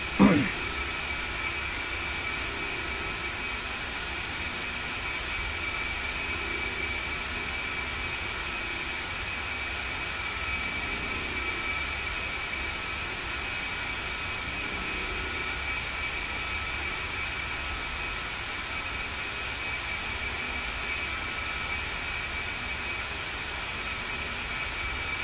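An A-10C jet taxiing in the DCS flight game gives a steady, unbroken engine drone with a constant high whine, holding at one level for the whole stretch after a brief bump at the start.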